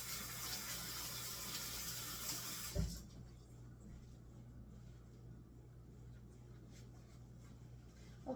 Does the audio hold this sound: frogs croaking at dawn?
no